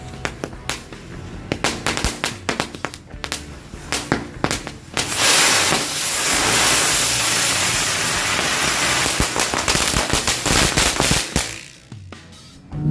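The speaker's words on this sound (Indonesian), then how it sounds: "selanjutnya kita nyalakan satu pak mercon bunga teratai" A pack of lotus flower firecrackers crackles and pops in rapid bursts, then erupts into a dense, continuous roar of crackling before tapering off near the end.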